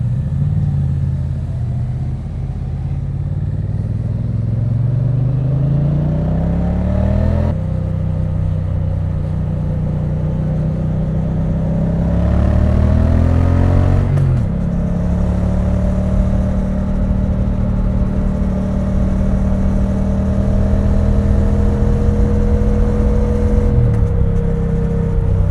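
A Triumph Bonneville T100 motorcycle rides along steadily, its engine note rising through the gears with clear drops at each upshift, loud and close throughout.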